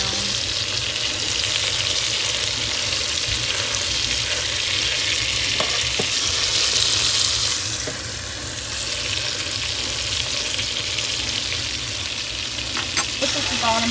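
A whole duck browns in an Instant Pot, giving off a steady, close, continuous sizzle and crackle of hot fat with a few small clinks of utensils, and no talking.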